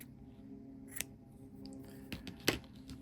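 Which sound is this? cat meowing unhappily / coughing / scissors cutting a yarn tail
scissors cutting a yarn tail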